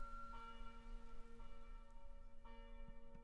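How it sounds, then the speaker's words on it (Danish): Church bells ring nearby, clear sustained tones with repeated strikes over about three seconds, faint and alone with no talk. "Det er faktisk kirkeklokker her, hvor jeg er."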